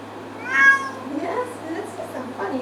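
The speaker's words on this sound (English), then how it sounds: "It's just a cat." A female cat meows once, clear and close, then softer vocal sounds follow with human voices talking at low level in a quiet indoor room.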